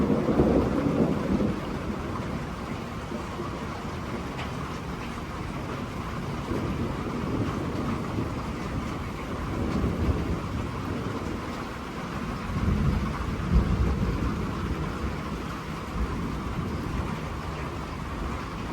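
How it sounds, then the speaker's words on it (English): Steady summer rain pours down in a thunderstorm, a continuous hiss with deep rolling thunder swelling underneath, strongest midway through and near the end. "Who doesn't just love a nice summer rain?"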